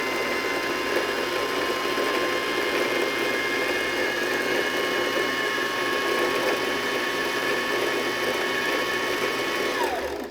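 Treadle sewing machine winding thread onto a bobbin at speed, a steady close whirring hum with a faint rhythmic mechanical rattle that runs unbroken and cuts off at the end.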